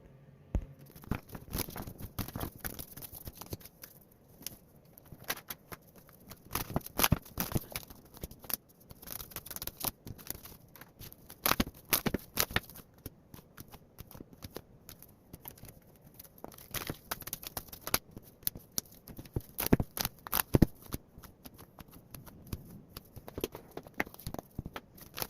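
Oracle cards are shuffled repeatedly close up, a long run of quick crisp riffles and soft slaps in irregular bursts with brief pauses between.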